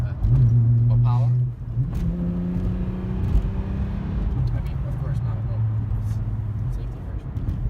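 A Volkswagen Jetta VR6 12-valve engine fitted with a cold air intake, a loud rev at the start settling into a steady, close idle hum with a faint whir.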